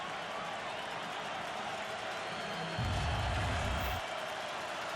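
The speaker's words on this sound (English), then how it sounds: "Crowd coming back to life here at SB Ballard Stadium on the campus of Old Dominion University." Football crowd at S.B. Ballard Stadium, Old Dominion University, swelling into a cheer during a home game against NC State, a broad roar of many voices that rises midway and then settles back to steady background murmur.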